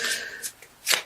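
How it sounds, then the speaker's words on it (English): Tarot cards shuffled by hand up close, a few quick papery riffling bursts with short pauses between them, alone without speech. "So I feel like these want to be shuffled."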